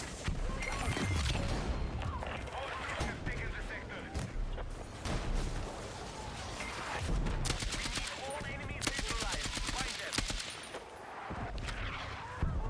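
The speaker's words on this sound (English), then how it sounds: "Me when I have a 500 round per minute fire rate gun and I can't hit shots." Rapid automatic gunfire in Battlefield 6 from a gun firing 500 rounds per minute, with dense sustained bursts, booms and crashes that fill the whole stretch, loud and continuous.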